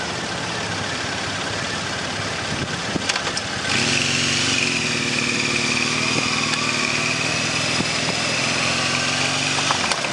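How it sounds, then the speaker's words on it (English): A motorcycle engine with a megaphone exhaust idles, then revs up and holds a higher steady drone, close and fairly loud, alone with no talk. "Megaphone exhaust makes a pretty nice sound."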